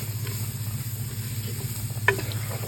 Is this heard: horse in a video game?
no